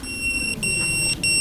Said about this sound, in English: That's my low battery beeper.